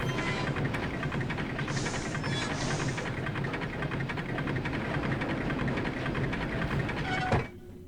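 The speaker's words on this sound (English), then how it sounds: "We move the train" Mechanical train moving in the puzzle video game Rhem 2: a steady rolling, clattering rumble runs for about seven seconds, then stops abruptly with a brief clunk, leaving a faint hum.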